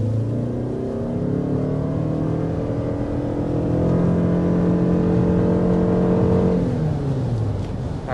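A 2025 Toyota Crown Signia hybrid accelerating hard up to 60 mph, heard from inside the cabin as a loud, steady rising engine and road drone that eases off near the end, with no talking.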